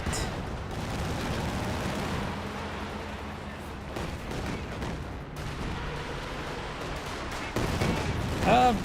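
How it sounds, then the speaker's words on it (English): Katyusha rocket barrage in Company of Heroes 2, a dense rumble of rapid booms and blasts rolling on for several seconds, with battle noise throughout and a louder burst near the end. "We do have the Katusha barrage there, rolls a bit of a miss."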